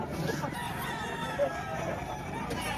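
At a chicken market in Padre Garcia, Batangas, a rooster crows faintly beneath a steady hum of market noise and distant activity.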